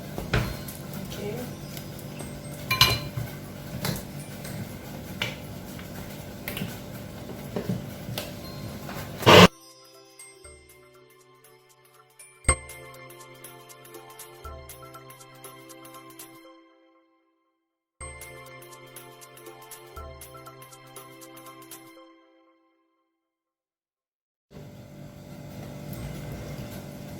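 A kitchen blender whirs loudly as it purées plantain with water for Jamaican plantain porridge. The steady, dense motor roar lasts about nine seconds, then cuts off, leaving quieter scattered clinks and taps with pauses of near silence.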